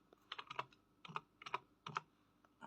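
Typing on a computer keyboard, soft close key clicks in four short clusters of a few strokes each, quiet with pauses between, no voices.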